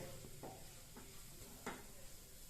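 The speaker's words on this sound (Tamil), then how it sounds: "பொடியை தூவி நல்லா கிளறி விட்டுக்கலாம்" Broccoli stir fry being stirred in a pan after a sprinkling of ground fennel spice powder: a low steady sizzle with a few soft scraping strokes, quiet and close.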